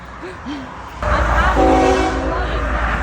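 A train roars past close by, its loud low rumble rising after a moment of quieter background with brief voice-like sounds, and a long steady horn blast sounding over it.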